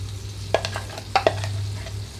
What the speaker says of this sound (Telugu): స్టవ్ ఆఫ్ చేసిన తర్వాత చట్నీ మొత్తం తాలింపులోకి వేసేస్తున్నాను.